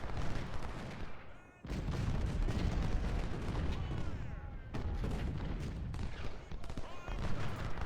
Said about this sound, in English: We're just taking cannon shot there when we don't need to be.